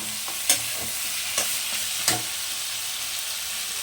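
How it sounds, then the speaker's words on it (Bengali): Dried loitta fish, already fried, being stirred in a pan over steady sizzling oil, with three sharp scraping clacks of a spatula standing out near and close. "আমি ভেজে রেখেছিলাম, দিয়ে দিচ্ছি। এখন নাড়াচাড়া করবো।"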